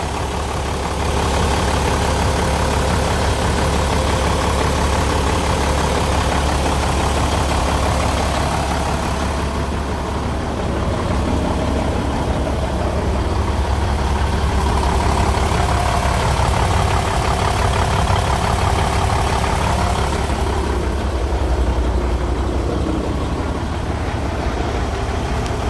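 An inline truck engine idles steadily at close range, a loud continuous low rumble that rises and eases slightly now and then, with no talking.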